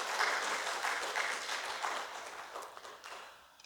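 A church congregation applauds together during a Sunday worship service, steady broadband clapping filling the room for a few seconds before tapering off toward the end.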